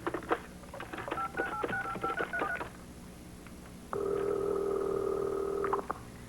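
Touch-tone keypad beeps come in a quick irregular run as a telephone number is dialed, followed after a short pause by a steady two-tone dial tone that holds for about two seconds.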